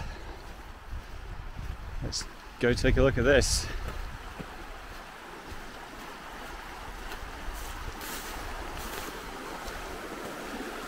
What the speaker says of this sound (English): So here I am at the river.